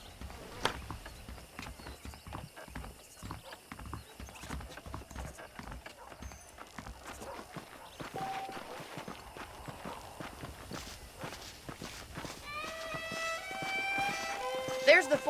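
Horse hooves clip-clop steadily while riding in the Red Dead Redemption video game on Xbox, someone talking over the hoofbeats and game music tones rising near the end.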